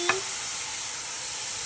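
Previously fried beef dropped into a hot pan for Chinese-style stir-fry spaghetti gives a brief clatter, then a steady, fairly quiet sizzle that carries on alone.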